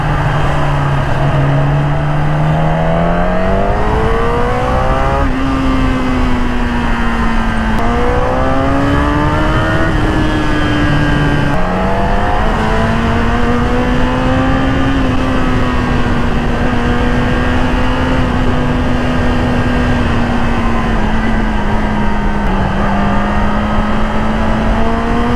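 A Kawasaki ZX-10R motorcycle engine revs loud and close, its pitch climbing in stages and then holding a steady high drone for the whole stretch, with no talking.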